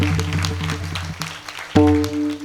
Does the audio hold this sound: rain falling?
no